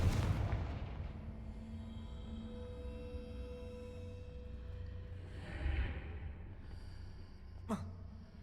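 A Confringo fire spell blasts in a Hogwarts video game with a sharp booming burst at the start, a lingering rumbling tail, a second softer thud and a brief whoosh later.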